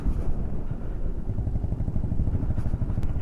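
A motorcycle loaded with tied-on luggage rumbles steadily at low speed, about 20–25, over a rough, dusty stone-chip road in Nepal on the way to Muktinath, its engine drone close and continuous with faint clatter.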